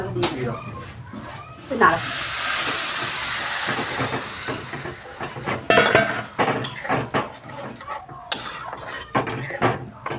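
Hot water goes into a pan of pulao, setting off a loud hissing surge of steam that lasts a few seconds, followed by utensil clatter and people talking nearby.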